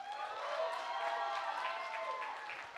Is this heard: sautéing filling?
no